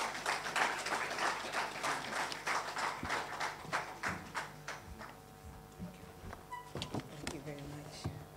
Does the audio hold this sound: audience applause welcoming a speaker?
yes